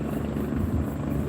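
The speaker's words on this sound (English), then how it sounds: "That's a helicopter." A helicopter passing overhead, a steady low droning rotor rumble that holds at an even, moderately loud level without voices.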